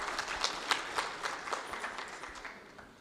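An audience at a business conference on employment and entrepreneurship in Tunisia claps for a keynote speaker, with a scattered burst of hand claps that thins out over a few seconds.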